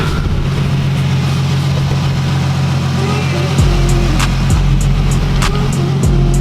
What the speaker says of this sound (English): got the car started. It's been dead for like a month.